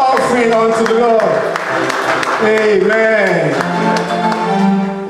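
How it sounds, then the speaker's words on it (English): Congregation clapping together in church during a thanksgiving and dedication service, loud steady claps mixed with music and a voice, with one person saying a short word over it. "Give a clap offering unto the Lord."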